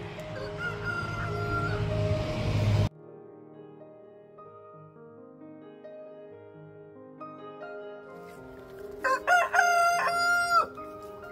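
A loud rooster crows nearby, then softer chicken clucks and calls follow, with a second rooster crowing near the end.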